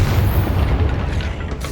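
A deep, rumbling blast from the Confringo blasting curse in Hogwarts Legacy, cast inside a tomb near an altar and sarcophagus, booming loud and sustained before fading slightly.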